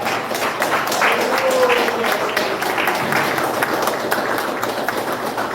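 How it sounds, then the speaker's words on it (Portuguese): Steady clapping from a church congregation, dense and continuous, filling the room at moderate volume. "Pode glorificar a Deus com as palmas"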